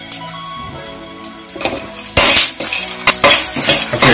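Utensil stirring turmeric through bread upma in a pan, with scattered scraping and clinking strokes that grow louder and busier toward the end, close up with no talk.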